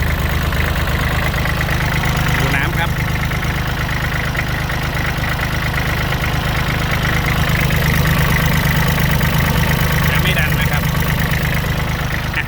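A used Kubota L3408DT tractor from 2008 with its hood raised idles steadily and loudly throughout, a constant low engine drone with some knocking texture, while someone talks over it.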